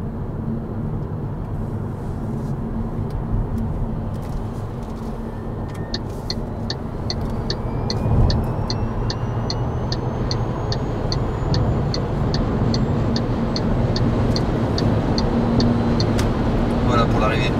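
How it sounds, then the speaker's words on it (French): An MG5 estate car accelerates hard in sport mode, its engine note climbing steadily under broad road and wind noise from inside the cabin, with a rising whine and regular ticking over it. "on va refaire l'accélération cette fois-ci en mode sport"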